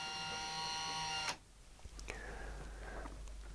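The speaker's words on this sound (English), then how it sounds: "This is the motor for the top masking, which runs on a roller blind." Electric motor driving the top masking roller blind of a home cinema screen, a short faint whir that starts around the two-second mark and hums steadily at low level, with a slight click as it begins.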